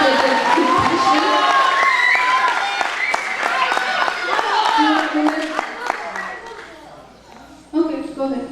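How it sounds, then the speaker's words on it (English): A debate audience at a Tamil community association event gives a dense round of clapping and cheering that slowly fades toward the end, then a short burst of noise follows. "Let us all give a round of applause for all the participants"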